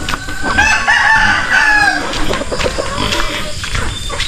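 Chickens and chicks on a small backyard farm cluck and chirp close by, with a rooster crowing and overlapping calls forming a busy, steady flock chorus.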